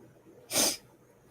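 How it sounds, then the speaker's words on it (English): A single short, forceful nose blow, close and loud, bursting out of near silence and ending quickly. "Sorry, I got to blow my nose."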